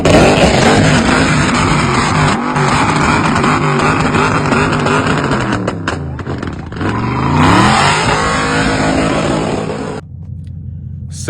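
Tuned Dodge Charger 392 Scat Pack V8 heard from outside, loud and close, revving hard in repeated rising and falling sweeps before cutting to a low idle at the end.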